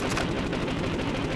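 A fighter's cannons fire at a B-17 bomber's wing in a rapid, sustained burst, a loud, dense rattle of shots with no pauses.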